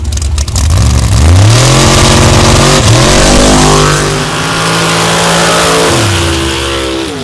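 Two drag racing cars at a Raw Power Stocks event launch side by side, engines roaring very loud and close, with rising revs and gear-change dips as they accelerate down the strip.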